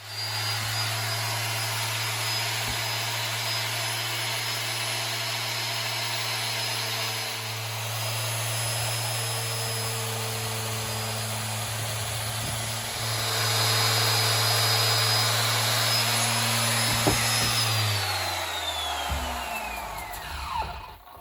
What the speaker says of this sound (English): we have finished the shaping with that 220 on that random orbit